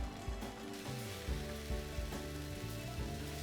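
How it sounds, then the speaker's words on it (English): Just Egg plant-based egg scrambling in a non-stick pan, a steady close sizzle and frying crackle with soft stirring scrapes at a low level, no voices. "And we're gonna try to make a scrambled egg. Non-stick pan really helps with Just Egg."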